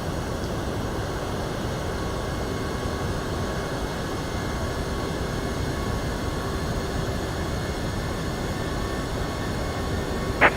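An MD-11 jet engine in X-Plane 11 runs up toward stable, producing a continuous loud, broadband roar with a faint steady whine layered over it, unchanging throughout.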